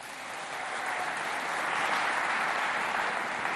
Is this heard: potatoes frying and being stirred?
no